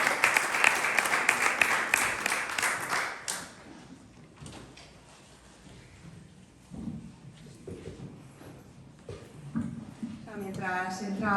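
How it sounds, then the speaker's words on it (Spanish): Audience applause rises as a dense burst of clapping, loud at first and fading after a few seconds, followed by quieter room noise and a voice speaking near the end. "Pero podemos aplaudiros un poquito."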